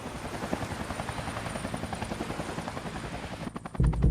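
A helicopter's rotor thumps in a fast, steady rhythm, fairly close, ending with a sudden louder rumble of wind or handling noise.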